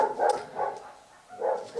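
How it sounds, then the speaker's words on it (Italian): A dog barks in short bursts indoors, three clear barks spaced apart at moderate volume with no talk over them. "Phoebe Abbaia"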